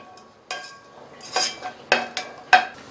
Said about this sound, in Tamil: அது வரைக்கும் நல்லா இந்த நெய்யிலேயே வதக்கி விட்டுக்குங்க.